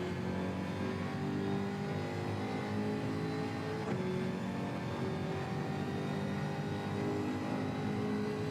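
A race car engine revs hard and steadily throughout at close range, a continuous loud mechanical drone with sustained harmonic tones and no talking.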